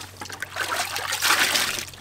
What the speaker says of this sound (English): we have a bucket of water and a sponge